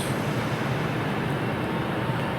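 A ScotRail class 397 electric multiple unit departing Glasgow Central station, a loud steady rumble and roar filling the platform throughout, with no speech.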